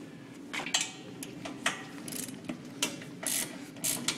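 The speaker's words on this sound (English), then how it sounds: "I'll pull the axle off." A cart's wheels and axle are pulled off, producing a quiet series of clicking, ratcheting metal clanks and light scrapes spaced irregularly, close by with no talk.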